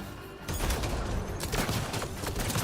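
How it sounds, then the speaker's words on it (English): A grenade launcher fires in a video game, setting off loud, dense bursts of blasts and rumbling explosions that run on for a few seconds after a brief quieter start. "this is literally just a grenade launcher"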